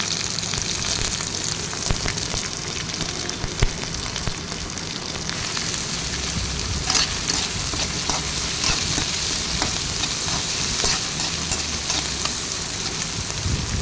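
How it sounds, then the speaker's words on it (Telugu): Cumin, mustard seeds, freshly crushed garlic, dried red chillies, curry leaves, onions and green chillies sizzle in hot oil for a Telugu beetroot fry, a steady, dense frying crackle with stirring that continues throughout. "దానిలో జీలకర్ర, ఆవాలు, అప్పుడే దంచుకున్న వెల్లుల్లి రెబ్బలు, ఎండుమిరపకాయలు, కరివేపాకు, ఉల్లిపాయలు, పచ్చిమిరపకాయలు ఇవన్నీ వేసేసి ఎర్రగా వేయించుకోవాలి."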